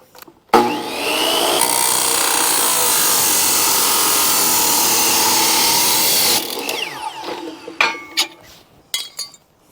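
A corded power saw cuts through an aluminum handrail piece with a loud, steady whine for about six seconds, then winds down, followed by a few metallic clinks and knocks.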